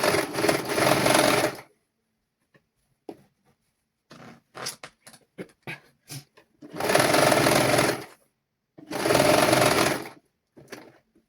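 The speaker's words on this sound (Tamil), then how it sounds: "தைச்சிட்டு பார்க்கலாம் பாருங்கள் தைக்கலாம்" A sewing machine stitches children's clothing in three strong bursts of steady running, separated by quieter stretches of handling clicks and small taps while the fabric is repositioned.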